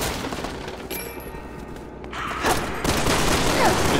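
Gunfire in the Resident Evil 6 video game, a dense, steady barrage of shots and impacts that grows louder and heavier toward the end, with no voices.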